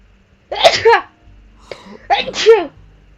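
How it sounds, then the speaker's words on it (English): A sneeze from a character in Telltale's Batman game, two loud bursts a second apart, each with a sharp inhaled lead-in, heard close and alone. "I'm going to sneeze"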